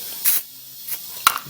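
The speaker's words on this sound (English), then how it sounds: "you want to spray some WD-40 on it" Short hissing bursts from a WD-40 aerosol can sprayed onto a Galant VR4 cylinder head during porting and polishing, three quick spritzes close to the microphone with brief pauses between.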